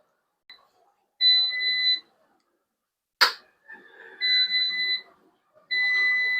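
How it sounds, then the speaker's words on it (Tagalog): An electronic timer on a cooking appliance, used while grilling pork belly barbecue, beeps in three sustained high-pitched bursts separated by short pauses, with a sharp clack between the first and second. "Ayan guys, nag-alarm na siya guys."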